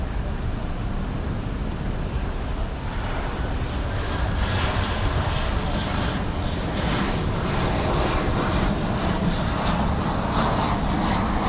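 A passenger jet passes at night at DFW Airport, a steady broad roar of engine noise that swells gradually and holds loud throughout, with no talk over it.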